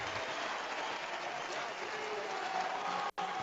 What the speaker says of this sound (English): Hannah Jones gets a huge round of applause from the Bearette faithful